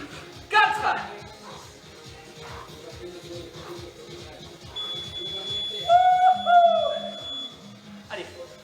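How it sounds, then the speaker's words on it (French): A workout interval timer sounds during a cardio and abs fitness class: a short electronic beep early on, then a longer pair of high tonal beeps later, with a coach's voice and shuffling movement underneath. "jusqu'au bip"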